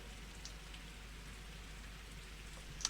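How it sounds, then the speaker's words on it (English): Rain ambience from the Pathologic 2 video game on PS4: a steady, soft patter of rain with faint drips, continuous and fairly quiet, with no voices. "enjoy the background sound of rain for a bit whilst I go to the bathroom"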